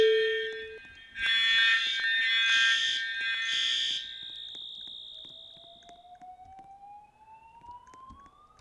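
A fire alarm going off during a building inspection, a loud piercing electronic tone pulsing in bursts and then ringing steadily before trailing off, followed by a faint rising whine with no voices.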